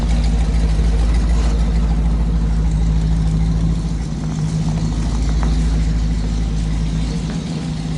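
A 1972 Chevy engine idles after a cold start, a steady low rumble that holds loud and close throughout, with a slight drop in level midway and no talking.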